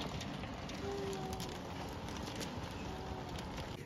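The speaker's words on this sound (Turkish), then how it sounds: "Göl gibi oldu her yer, çok fazla yağmur var bugün." Heavy rain pours down steadily during a sudden storm, a dense, even hiss of water with no letup, fairly faint and without any talking.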